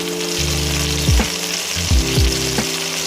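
Pork sizzles steadily while searing in a hot pan, a continuous close frying hiss broken by a few louder bumps and scrapes as the meat is moved.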